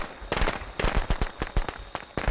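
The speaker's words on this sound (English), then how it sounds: "W fucking fireworks," Fireworks crackle and pop in rapid, irregular bursts inside the horror video game Friday the 13th, loud and close with no talk over them.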